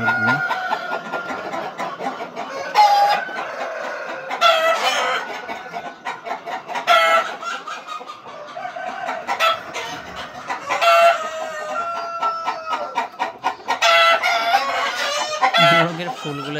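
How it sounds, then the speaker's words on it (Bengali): Roosters, large hybrid birds weighing 5.5 to 6 kg, crow repeatedly and cluck nearby in a farm setting, with several loud crows rising over a steady background of fowl calls. "এই যে সামনে কিছু মোরগ দেখা যাচ্ছে"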